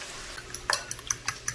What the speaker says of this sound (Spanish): Aquí la carne ya está quedando doradita, lista para echarle el huevo.